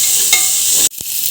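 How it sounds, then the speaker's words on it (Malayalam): Onions sauté in a pan for veg biryani with a loud, close, continuous sizzling hiss that cuts off abruptly near the end and then resumes more faintly. "ഇനി വലിയ ഉള്ളി ബ്രൗൺ കളർ ആകുന്നത് വരെ ഒന്ന് വഴറ്റിയെടുക്കണം."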